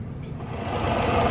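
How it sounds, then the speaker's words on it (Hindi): The spindle of a Rambaudi FVR vertical milling and boring machine from Italy runs at its maximum 1500 rpm. It makes a steady, close mechanical whir and hum that swells slightly over a brief moment. "1500 rotations per minute is the current spindle speed, which is the maximum speed."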